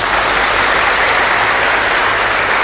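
A gala audience applauds a guest, the volunteer fire brigade commander, with dense, loud, steady clapping from a crowd that carries on without a break.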